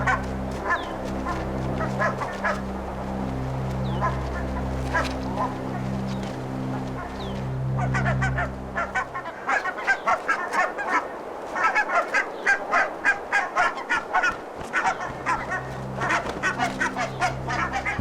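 Geese honk repeatedly while herding their goslings down a slope, loud and close, with bursts of calls coming over a low rumble and then sharper, rhythmic honks toward the end; a narrator talks over part of it.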